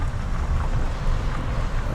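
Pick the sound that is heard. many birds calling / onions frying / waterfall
waterfall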